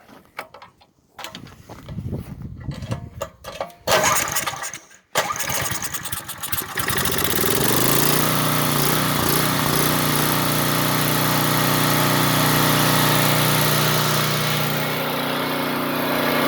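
A Power Pak 2500 watt portable generator engine being started with a few sputtering tries, then catching and settling into a loud, steady running drone that lasts over ten seconds.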